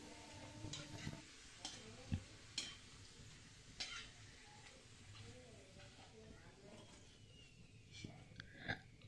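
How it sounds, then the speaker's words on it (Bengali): Papad frying in hot oil in a kadai on a gas stove, a soft steady sizzle with scattered clinks and scrapes and occasional louder crackles, close by. "গ্যাসে আমি কড়াইতে তেল গরম বসিয়ে একটু পাঁপড় ভেজে নিলাম"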